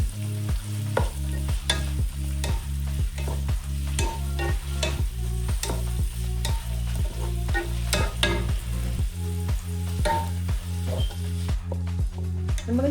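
Onion being sautéed in a pan, with a steady sizzle under a brisk, regular rhythm of spatula scrapes and knocks repeating about twice a second throughout, and nobody speaking.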